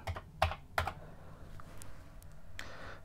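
Several sharp key clicks sound close and quiet from a computer keyboard, a few in quick succession, then sparser taps over a faint background hum.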